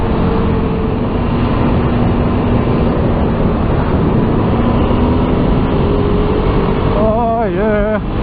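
An adventure motorcycle runs along a country road between Tallarook and Murrindindi, giving a steady, loud engine drone thick with wind rush. The engine note rises and falls briefly near the end.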